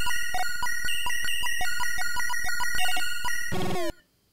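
Chiptune-style blips from a ball striking blocks in the video game Gigas, a fast run of bright, evenly spaced tonal beeps cycling through a few pitches, ending in a quick rising chirpy flourish before cutting to silence.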